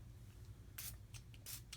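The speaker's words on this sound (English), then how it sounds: "I use my own spray, which I will tell you about later in the month, but it is my own hydration spray." A hand-pumped hydration spray mists onto a makeup brush in a few quick, soft spritzes, each a short airy hiss, heard faint and close against quiet background.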